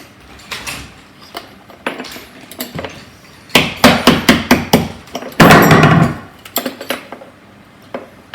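Hammer blows drive a wall fixing through plasterboard during a kitchen fit, a series of loud, sharp strikes in clustered bursts with short pauses, close by and with no talk.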